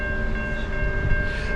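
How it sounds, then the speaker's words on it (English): A train horn sounds as a steady sustained tone over rumbling rail noise as the train approaches near a bridge at night. "The train's actually coming."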